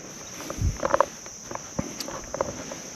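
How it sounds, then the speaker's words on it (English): Insects chirp at dusk outdoors beside a car project, their faint, scattered calls mixed with a few soft footsteps and light shuffling close by. "You can hear the bugs are chirping away."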